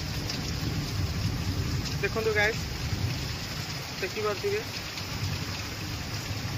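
Heavy monsoon rain pours down in a steady, dense hiss during a lightning storm, while someone talks briefly over it.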